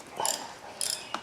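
A 6mm Allen key turns the eccentric 12mm timing belt tensioner on a 2008 Hyundai Elantra 2.0 engine, giving two short metallic ratcheting clicks and a faint third tick, close and distinct, with no talk.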